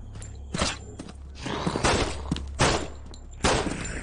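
Four revolver shots fired into the air in a multiplayer shooter video game, each a sharp burst spaced about a second apart, loud and close against a low game background with no talk.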